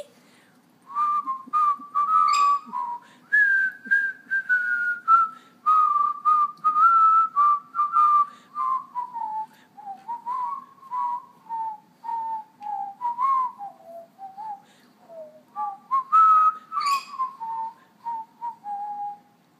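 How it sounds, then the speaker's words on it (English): A person whistles a wandering melody, clear and fairly close, in short phrases with brief breaths between them. "Here, whistle louder. We can't hear the music."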